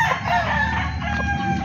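A rooster crows in a cockfighting setting, its call carrying over steady background noise with clucking fowl nearby; the crow is mid-loud and continuous throughout the short span.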